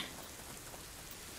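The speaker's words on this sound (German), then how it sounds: "Es regnet." Steady rain falling in the video game A Plague Tale: Innocence, a faint, even hiss of downpour with no distinct drops or thunder, unbroken for the short stretch.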